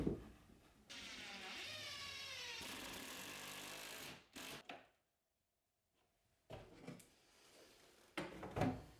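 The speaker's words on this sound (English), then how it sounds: "Then I finally put the drawer back in the desk to finish everything up." A wooden desk drawer slides back into a floating corner desk, a long rumbling glide followed by a pause and a few sharp knocks and bumps as it seats, close and alone.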